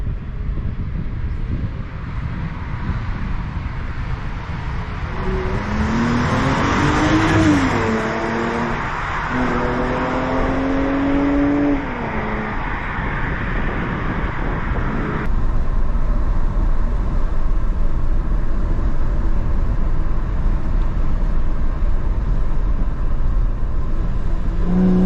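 Steady car engine drone and road rumble from inside a car on a drive home, with wind noise and a rising whine of the engine partway through; loud and continuous with no talk.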